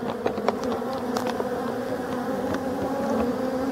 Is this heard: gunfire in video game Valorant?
no